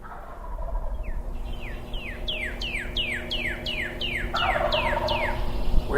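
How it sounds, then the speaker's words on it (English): Wild turkeys in woodland in Maine, with a rapid series of descending bird calls repeating steadily over a constant low hum; the calls are moderately close and clear, with no talking. "there's already turkeys in the woods right below me"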